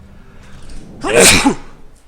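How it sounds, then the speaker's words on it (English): A single close, sharp sneeze bursts out about halfway through, with quiet background before and after; recorded by someone playing Mass Effect. "I gotta sneeze."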